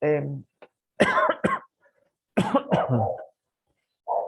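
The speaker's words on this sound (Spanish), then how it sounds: "Perdón por la tos." A lecturer in a classroom coughs several times in short, harsh bursts separated by brief silences, close and fairly loud, with some throat clearing mixed in.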